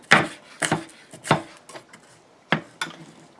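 A knife chops a peeled, halved onion on a board for pizza toppings, giving six sharp, close cuts in an uneven rhythm with quiet gaps between them and no talking.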